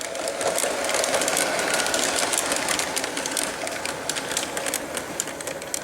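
A toy model train runs through a Christmas train village, giving a faint, steady mechanical clatter and whir with rapid ticking that continues throughout with no talking.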